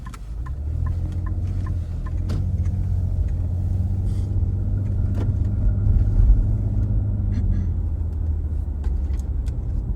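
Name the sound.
vehicle arriving on the road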